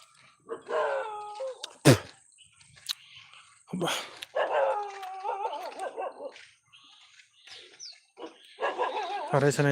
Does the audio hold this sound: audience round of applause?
no